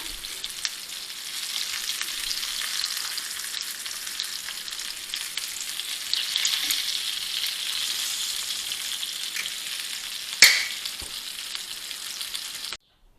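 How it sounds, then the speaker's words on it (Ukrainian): Fish sizzles steadily in a hot pan, a constant crackling hiss with one sharp pop near the end before it cuts off. "Рибку вже посмажили"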